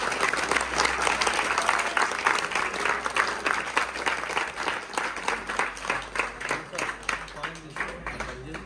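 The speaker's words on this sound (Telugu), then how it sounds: "అందరు కలిసి చప్పట్లు కొడితే ఎంతో సంతోషం." A group of devotees at a Sabarimala pilgrimage pooja claps together in a steady rhythm, the beats repeating throughout with voices audible underneath.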